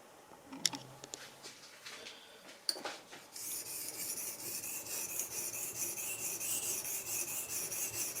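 A Japanese plane blade is sharpened on a 220 grit King waterstone. A few faint taps come first, then steady, close, gritty rasping strokes continue without a break.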